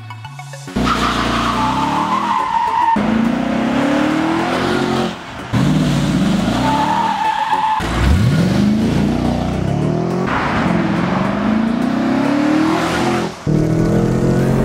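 An Audi RS 5 Cabriolet's naturally aspirated V8 roars through dual twin exhaust tips, accelerating hard in repeated loud pulls with rising pitch and brief drops between gear changes, close and without voices.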